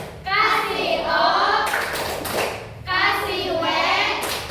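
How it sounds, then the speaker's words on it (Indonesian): A class of children does the 'tepuk wow' clapping pattern in an elementary classroom. Bursts of hand claps land among loud, sing-song group chanting, with a couple of sharp clap accents standing out. "Kita kasih tepuk wow."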